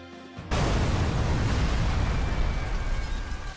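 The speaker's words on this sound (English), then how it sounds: "That explosion. It has to be the androids." Explosion in the Dragon Ball Z: Kakarot video game, a sudden loud blast that breaks in after a quiet half-second and rolls on as a sustained, rumbling roar before slowly easing.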